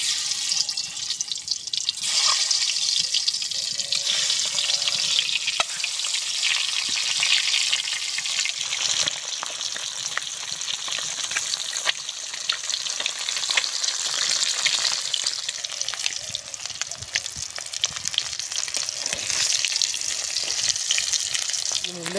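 Eggs frying in hot oil for a jackfruit and egg curry: a loud, steady crackling sizzle that runs unbroken throughout, close up, with occasional faint voices underneath.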